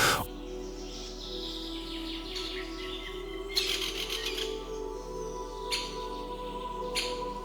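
Faint, scattered high chirps and squeaks of birds and insects in a humid forest over a low steady hum, a few short calls spaced unevenly through a quiet background.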